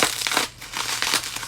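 Plastic bubble wrap crinkles and crackles in short bursts as it is handled during an unboxing of makeup palettes, with brief quieter pauses between loud rustling handfuls.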